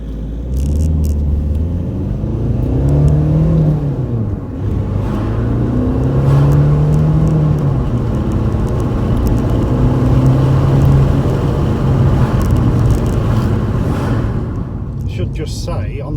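An Austin Allegro's engine rumbles and climbs in pitch as the car accelerates, with the revs rising and falling through several gear changes while people talk inside the car over it.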